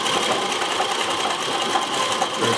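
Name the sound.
Consew CN2053R-1A sewing machine on treadle sewing manual zigzag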